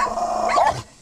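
A dog, pit bull or local mongrel, gives one short, loud bark that tails off into quiet, alone and close by.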